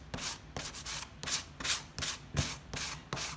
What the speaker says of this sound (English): This is 220 grit sanding foam blocky thing from the hardware